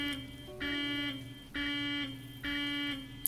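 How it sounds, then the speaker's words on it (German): A repeating electronic alarm system blares in the game Twisted Lands: Insomniac, sounding three loud sustained tones with short gaps between them, with no talk over it. "Gott, die Alarmanlage ist angegangen."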